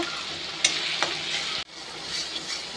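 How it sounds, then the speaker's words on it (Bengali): Spice masala with salt and turmeric fries in a pan, a continuous close sizzle broken by a few stirring scrapes and clanks, with no voices. "মশলাটা ভাজা হয়ে গেছে"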